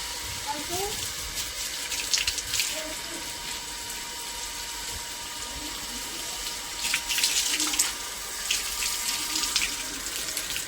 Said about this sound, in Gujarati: બોરનું પાણી ચાલુ સારું ગરમ ગરમ આવો।